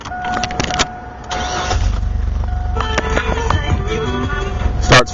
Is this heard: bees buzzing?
no